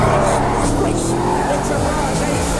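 A car drives along in GTA 5, its engine droning steadily and loudly with a continuous road rumble throughout, while voices talk over the game sound.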